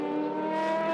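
A Porsche hypercar in an FIA World Endurance Championship race at Spa, running behind the safety car, gives a brief, steady, buzzing engine drone with a strong harmonic tone and no speech.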